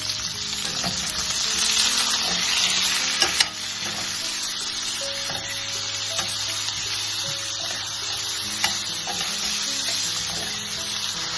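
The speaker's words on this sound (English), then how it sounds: "cook the onions until they are pink in color or until they turn pinkish" Onions with salt fry in a pan for an egg roast, producing a continuous loud sizzling hiss with a few faint clinks and one brief knock, close by and without talk.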